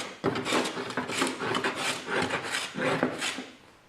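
Scrub hand plane shaving a wooden board with diagonal strokes, a series of rough rasping swipes in quick rhythm, close and loud, with a brief pause before the final strokes.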